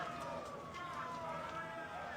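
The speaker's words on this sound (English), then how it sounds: "Siren, then another, and another." Several sirens in a video game street scene, wailing and overlapping in a continuous rising and falling tone, moderately loud, with a voice talking over them.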